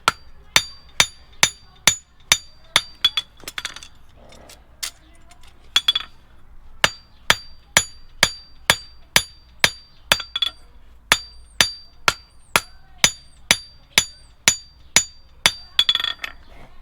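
A farrier hammers a horseshoe on a 100-pound anvil, ringing metallic strikes in a steady rhythm of about two per second, loud and close, with a few short pauses and faint talk in the gaps.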